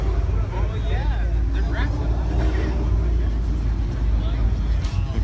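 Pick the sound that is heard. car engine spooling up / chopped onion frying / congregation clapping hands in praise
car engine spooling up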